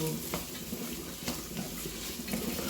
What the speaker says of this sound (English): I will now fry the okra.